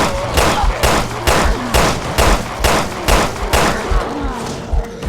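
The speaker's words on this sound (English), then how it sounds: "I'm just shooting these guys for a moment" Rapid, loud gunfire from shooting enemies in Resident Evil Revelations 2, about ten sharp shots in a steady rhythmic burst, close and punchy over low game ambience.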